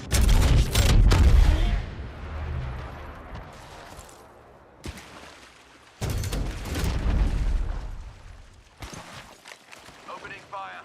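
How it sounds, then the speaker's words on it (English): Gunfire in a shooter video game: loud bursts of rapid shots and booming impacts come in clusters with quieter gaps between them, while a player talks over the action. "Opening fire. Being shot at."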